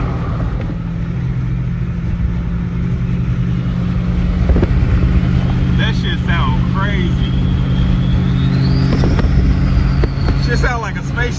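A tuned turbocharged car engine drones loudly and steadily under wind rush, with a rising turbo whistle spooling up midway; someone talks over it.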